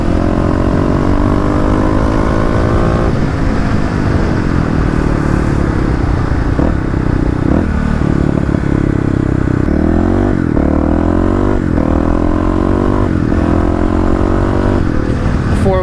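A 2018 Kawasaki KLX351 EFI motorcycle rides along a road in Oregon, its single-cylinder engine droning loudly as the revs rise and fall through repeated gear changes, with wind rush throughout.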